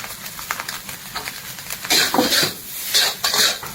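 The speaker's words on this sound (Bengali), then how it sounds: "তো এর মধ্যে অ্যাড করব নুডলস, বয়েল করা নুডলস।" Boiled noodles dropped into a wok for Kolkata street-style egg chowmein, with a metal spatula clanking and scraping in loud bursts over a quieter kitchen clatter.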